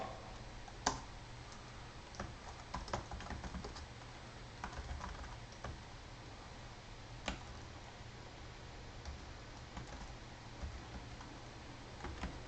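Computer keyboard typing out a Dockerfile, irregular close key clicks and taps with occasional louder strikes, steady and quiet over a faint hum, no talk.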